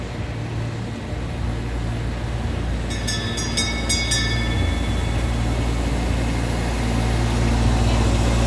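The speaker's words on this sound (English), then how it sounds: "And here comes the little train." A small fairground train rolls past at a steady pace, its low engine rumble running through the whole stretch, with a few bright metallic clicks partway through and no voices.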